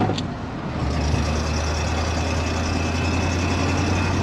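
A 1970s pickup truck with a manual transmission cruising in third gear at about 30 mph, giving a steady, loud low engine drone with road noise that holds constant throughout, without talk.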